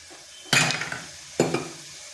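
Ground turmeric, cumin, coriander and chilli spices stirred in a pan, two separate bursts of scraping and light sizzle, close and fairly quiet, with no talking.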